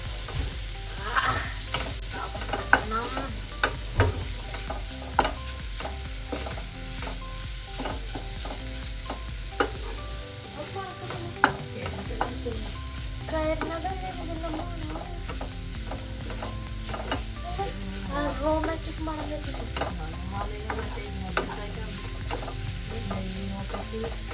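Sausage fries with spice powder in a pan while a utensil stirs and scrapes, giving a continuous close sizzle broken by repeated clattering strokes, with no talking.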